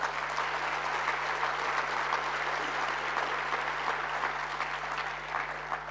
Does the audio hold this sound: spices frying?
no